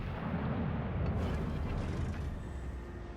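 Salvo from a battleship's main guns in World of Warships Legends, a heavy rumbling blast that rolls on and fades slowly, with no talk.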